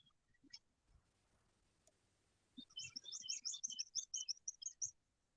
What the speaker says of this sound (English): Listen to those birds at the back of my